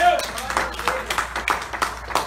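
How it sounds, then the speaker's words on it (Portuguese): Church congregation clapping during a sermon, a series of loose, uneven handclaps spread across the moment, moderately loud with a voice speaking over them. "Quem pode aplaudir ao Senhor por isso?"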